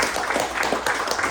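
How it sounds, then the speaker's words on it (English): Applause from a large, engaged crowd at a live comedy show, a brief steady wash of clapping that stays loud and even throughout. "Please clap."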